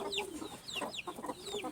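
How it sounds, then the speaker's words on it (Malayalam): A fancy white hen with fluffy feathers clucks in short repeated calls, close by and fairly clear, with other fowl chatter around it in a poultry yard. "കണ്ടു നോക്കൂ, ഇതാണ് നമ്മളെ പുതിയ ഫാൻസി കോഴി."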